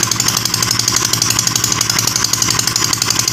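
A repaired motorcycle engine, fixed for clicking, hard shifting and weak pulling, runs steadily up close with a loud, rapid buzzing idle rhythm and no talking over it.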